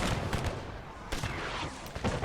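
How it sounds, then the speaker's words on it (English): Musket volleys and artillery fire ring out in a large Napoleon Total War battle for Moscow, with several sharp blasts breaking through a dense, noisy wash of distant combat. "These units are being hit hard by artillery while in square."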